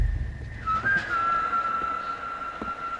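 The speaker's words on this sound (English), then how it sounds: "Ooh, that whistle." Whistling from the Red Dead Redemption video game: a single clear, sustained whistled tone that rises slightly and then holds steady for over two seconds, with no talking.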